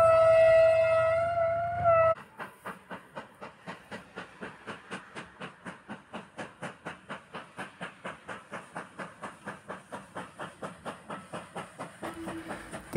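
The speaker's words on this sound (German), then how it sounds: "Die bayerische S36 ist mit ihrem Zug auf dem Weg in Richtung Amstetten." A Bavarian S 3/6 steam locomotive hauls its train toward Amstetten, a long steady run of rhythmic exhaust beats and rail clatter passing at moderate distance, preceded by a brief whistle-like tone at the start.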